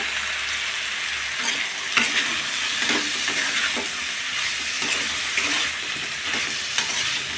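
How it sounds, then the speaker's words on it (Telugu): Eggplant pieces and thinly sliced tomatoes fry in a pan for a catering-style drumstick and eggplant cashew curry, giving a steady close sizzle with occasional stirring scrapes and no voices. "ఈ వంకాయ ముక్కలు కూడా బాగా ఫ్రై అవ్వాలి."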